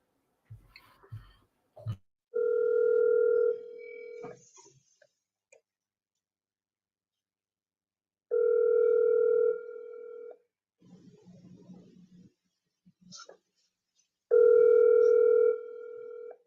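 Outgoing telephone call ringback tone, three separate long ring bursts spaced several seconds apart, clear and steady with near silence and small handling noises between rings.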